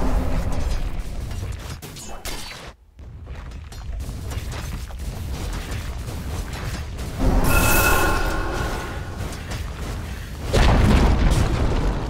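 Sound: tower destroyed in Dota 2 video game

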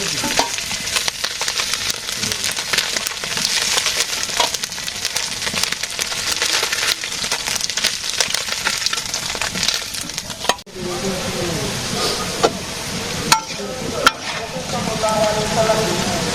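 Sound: potatoes frying with onions in a pan

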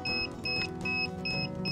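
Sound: DJI Phantom 3 Professional drone beeping

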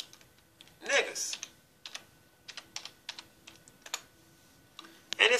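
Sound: typing on a computer keyboard

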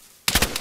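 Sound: gunfire from the video game Rust

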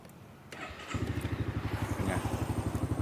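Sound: Honda Forza 300 gen2 scooter engine revving, stock exhaust

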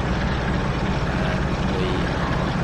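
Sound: Class 45 diesel locomotive engine at full throttle, Train Sim World 3 video game

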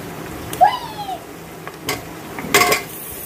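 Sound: mutton trotters (paya) added to pan with garlic, ginger, onion

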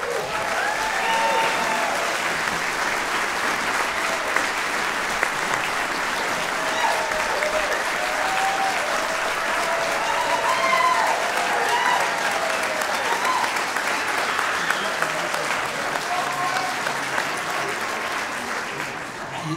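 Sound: audience applause at choir concert

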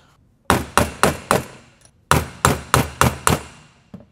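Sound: punch and hammer striking Tesla Model 3 brake pins

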